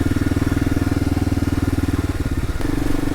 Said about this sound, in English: I guess we gotta rev up the motorcycle through the tunnels.